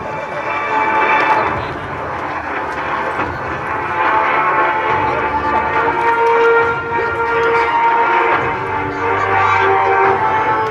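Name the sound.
military aircraft taking off at air show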